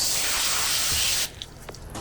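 A garden hose sprays water onto a dirty car seat during interior detailing, a loud steady hissing spray for over a second that cuts off abruptly, followed by faint drips and small handling sounds.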